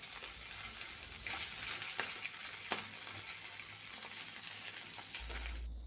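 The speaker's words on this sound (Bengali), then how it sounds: "মাছটাকে ভালো করেই ভাজতে হবে" Rohu fish frying in hot oil in a kadai, giving a steady hiss of sizzling broken by occasional sharper pops and stirring clatter, moderately loud with no talking.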